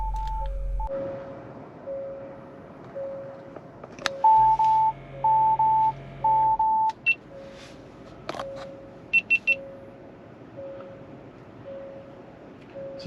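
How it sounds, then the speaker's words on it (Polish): Short electronic beeps from a 2022 Kia Sportage rear cross-traffic alert repeat at an even pace while reversing, with a few brief higher tone bursts and a low hum partway through; no talking. "Piszczenie, pikanie, wibracje na kierownicy."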